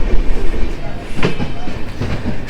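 A Howrah–NJP special passenger train pulling out of Jamirghata station up close, with rhythmic clatter and rumble building as it gets moving.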